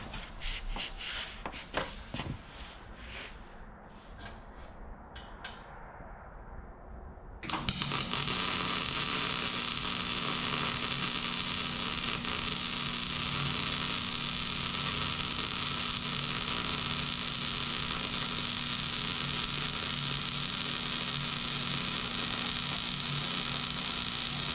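Welding on a race car, a steady loud hissing, buzzing arc that starts abruptly after several seconds of quieter shop noise and runs on evenly.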